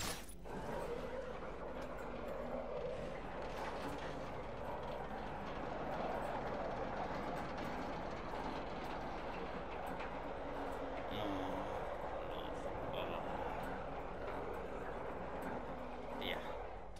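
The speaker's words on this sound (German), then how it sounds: "Noch weiter fährt der Fahrstuhl nicht." An elevator travels in the Batman: Arkham Knight video game, giving a steady, continuous mechanical rumble and rattle at a low, even level throughout.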